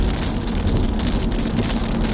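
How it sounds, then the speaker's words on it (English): Steady rain drumming on a moving car, heard from inside as a continuous close hiss over low road rumble, with no voices. "at this point it's raining"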